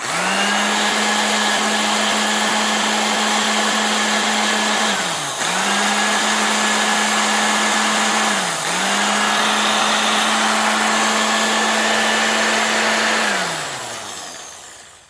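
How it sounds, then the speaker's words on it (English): A low-speed, high-torque Speedway 1/2-inch electric drill whirs with a steady low motor hum, dipping briefly twice as if loaded, then winding down at the end. "Now this is a low RPM, high torque drill"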